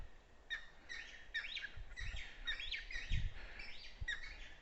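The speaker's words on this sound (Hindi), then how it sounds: "विभिन्न प्रजातियों के पक्षी, उनकी चहचहाहट" Various bird species chirp and call in a pine forest at evening, a busy series of high, quick tweets repeating at moderate distance over low background rumble.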